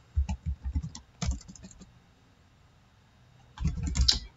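Quick bursts of keystrokes on a computer keyboard as a command is typed, a short rapid run, a pause, a lone cluster, then another burst after a silent gap.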